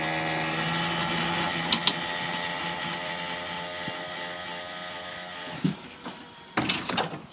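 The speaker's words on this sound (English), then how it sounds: "I don't know if you could hear the pump or not, but it was definitely starved for fluid" A hydraulic lift pump starved for fluid, giving a steady, faint mechanical whine with a constant tone, followed near the end by a few clunks and handling knocks.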